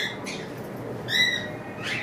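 Adult cockatiels, including large lutino birds, call from a cage in a bird shop: a couple of short, bright squawking calls stand out above a steady background hum.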